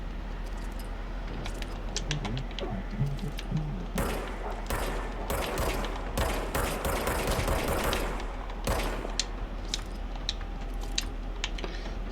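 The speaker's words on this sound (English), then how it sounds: "Now I have a gun." Rapid bursts of automatic gunfire from the player's weapon in the video game Control, dense crackling volleys starting near the middle and continuing steadily with game ambience behind, no voices.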